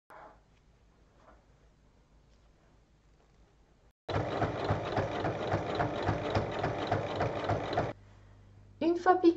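A sewing machine stitches a folded, fused fabric strap in a steady, rapid mechanical run of about four seconds, framed by quiet handling noises before and after.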